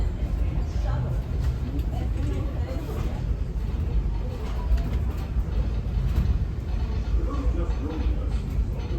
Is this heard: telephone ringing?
no